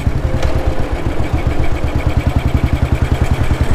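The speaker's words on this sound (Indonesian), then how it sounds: "Getarannya khas motor Eropa ya, kompresi rendah gitu yang." A 1952 BMW R25 motorcycle engine running at a low, loping idle, close up, with a steady rhythmic thumping pulse and mechanical rattle.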